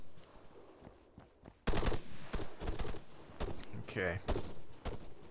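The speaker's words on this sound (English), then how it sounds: "A lot of shots coming inbound" Bursts of automatic and single gunfire from an ArmA 3 Alpha Advance & Secure match, loud cracks in irregular clusters over a quieter battlefield bed, with a player speaking briefly.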